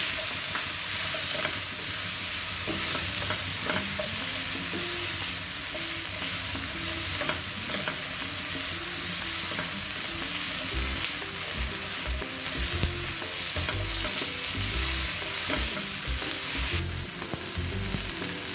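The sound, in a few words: stir-frying vegetables and baby corn for chicken salad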